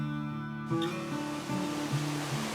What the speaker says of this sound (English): Crooked Creek is not that tall of a waterfall, only 16 feet or so